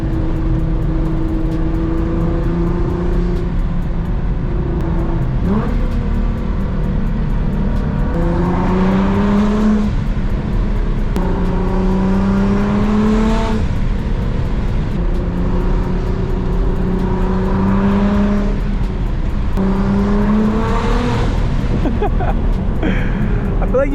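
A Nissan GT-R with a loud exhaust and drag racing tires climbs a canyon road, its engine droning and rising through repeated revs and gear changes from inside the cabin, with a voice talking over it.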